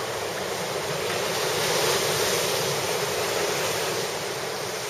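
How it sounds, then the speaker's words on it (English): Ocean surf breaks at a reef break where runoff flows into the sea, heard as a loud, continuous roar of wave wash that swells slightly midway, with no voices. "So out there, it's looking pretty good with the waves"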